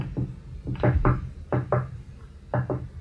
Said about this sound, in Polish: rozległo się do mej przychodni niepewne pukanie.